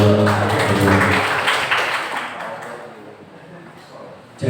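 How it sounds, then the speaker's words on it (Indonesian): Audience applause at an Indonesian school positive-culture module outreach session, a broad wash of clapping from a room of attendees that swells at first and gradually thins out, with voices mixed in. "Tepuk tangan untuk."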